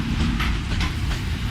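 A blue and grey first-generation train leaves as empty stock, wheels clattering rhythmically over rail joints with a steady rumble, close by.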